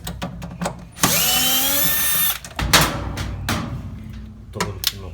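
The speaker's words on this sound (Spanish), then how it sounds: "Tenemos que quitar todos los tornillos." A power drill backs out plastic-threaded screws from a leaking, noisy Easy washing machine, one whirring run of about a second followed by clunks, short clicks and taps of handling parts.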